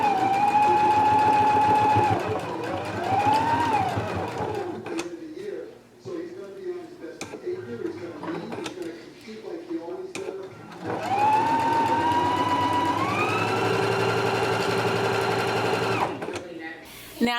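A sewing machine stitches a facing seam around a jumper with a 5/8-inch seam allowance, running in two long steady whirring bursts separated by quieter handling noises, close and loud.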